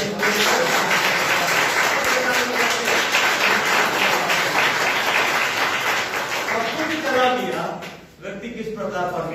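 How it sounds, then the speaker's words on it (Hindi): In a Hindi-language church service, the congregation breaks into loud, dense applause that fills most of the moment before fading, with a voice speaking over and after it. "ताली बजाएं।"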